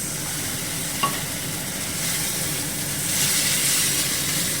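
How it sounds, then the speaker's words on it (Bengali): A spice paste for fish in oil sizzles and hisses steadily as a little water is added. The frying is close and continuous and grows slightly louder toward the end, with a faint clink and no talking. "মশলাটাকে আমি ভালো করে কষানোর জন্য মিক্সি ধোয়া জলটা অল্প করে দিয়ে দেবো।"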